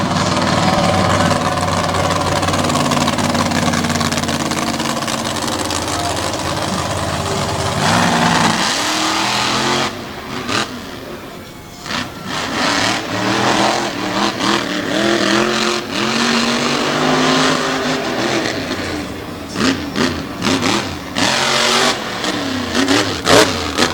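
The Jurassic Attack monster truck from Layton, Utah revs its engine at Lake Erie Speedway, a steady loud roar that breaks into sharp bursts of throttle, surging and dropping in uneven pulses.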